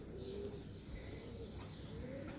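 A flexible-winged pigeon coos nearby in soft, low, rolling murmurs over a steady background hum, with no one speaking.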